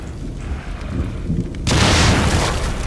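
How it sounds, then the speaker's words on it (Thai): A sudden deep, roaring blast cuts in partway through and rumbles on loudly to the end, an explosion in the game The Evil Within. "ระวังโดนระเบิด"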